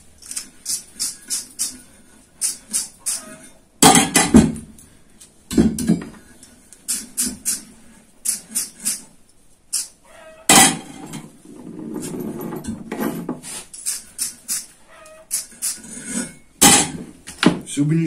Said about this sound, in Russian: кидаем наши болтики